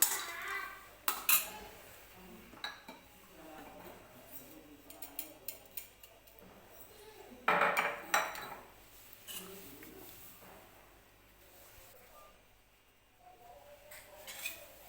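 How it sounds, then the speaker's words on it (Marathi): Grated coconut dry-roasting in a hot kadhai, with intermittent metallic scrapes and clinks of a spoon stirring against the pan, some louder bursts amid quieter gaps. "थोडासा हलकासा गोल्डन रंग येईपर्यंत खोबरं आपल्याला हे भाजून घ्यायचं आहे"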